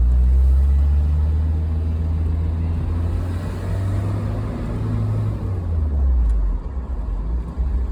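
A 1984 Spider's engine drones steadily from inside the car while driving, a loud low rumble with gentle rises and dips in pitch as it eases along, and no voices.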